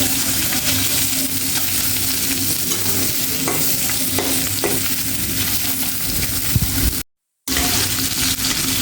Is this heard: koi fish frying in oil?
yes